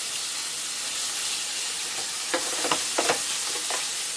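Pork chop searing in a hot pan after being flipped, a steady close sizzle with a few sharper crackles and spits breaking through toward the end.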